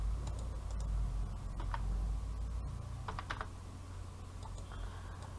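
Keys clicking on a computer keyboard in short irregular bursts, fairly faint over a steady low hum, with no talking.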